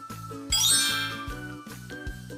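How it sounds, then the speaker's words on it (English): A small bell rings several times in a repeated tinkling pattern, each strike ringing out briefly before the next, bright and close with no other sounds. "I see a bell."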